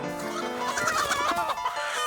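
A chicken on a remote island clucks repeatedly in a busy, close stream of short throaty calls, loud and steady over the whole moment with no talk.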